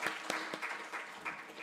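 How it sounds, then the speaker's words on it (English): Applause from the audience at a global health commission launch on medical oxygen security, a short burst of scattered claps with a few sharper hand strikes, fairly faint and without talk. "Please join me to give a more befitting applaud for the presentation."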